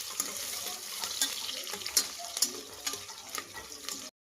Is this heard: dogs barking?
no